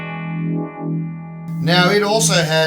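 Electric guitar played through the funk channel preset of a Sonicake Matribox multi-effects unit, a sustained chord ringing before brighter, busier strummed notes come in, with someone talking over the playing.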